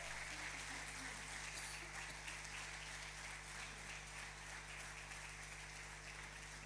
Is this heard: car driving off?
no